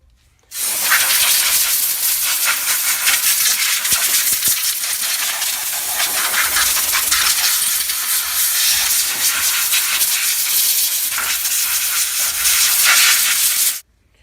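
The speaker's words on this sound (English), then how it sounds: "we'll hose the whole area down with some brake clean" Brake cleaner sprays in one long, loud, continuous hiss over the rear brakes of a Ford Explorer, steady for about thirteen seconds before cutting off abruptly.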